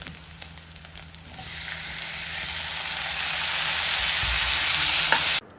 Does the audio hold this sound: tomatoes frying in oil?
yes